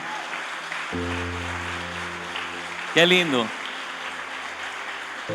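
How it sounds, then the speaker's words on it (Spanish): Steady applause from a crowd, with a sustained musical tone underneath and a brief spoken exclamation partway through. "Démosle un fuerte aplauso a Dios"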